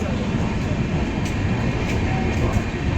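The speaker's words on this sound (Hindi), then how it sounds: "और हमारी ट्रेन निकल रही है बक्सर रेलवे स्टेशन से।" The Kamakhya Express pulls out of Buxar railway station on a cold December evening, a loud continuous rumble of the carriages with faint clicks of the wheels on the track.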